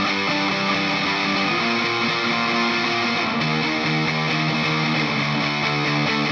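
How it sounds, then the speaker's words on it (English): Distorted pop punk electric guitars, the main rhythm parts of a theme song, panned hard left and right, play loud sustained power chords in a dense, constant wall of sound with no voices. "So here's what the main guitars sound like."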